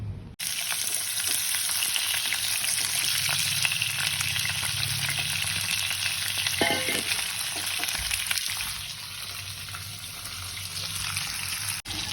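Potatoes fry in hot oil with a loud, steady sizzle that holds throughout, with occasional stirring scrapes and a brief splash of water near the end; no talking.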